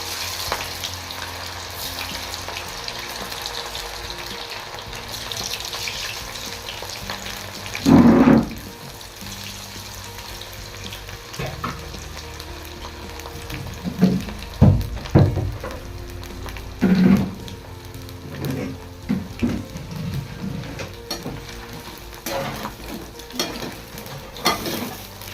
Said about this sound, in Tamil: ஒன்றுக்கு ஒன்று ஒட்டாத மாதிரி இதை நம்ம பொரிச்சு எடுக்கணும்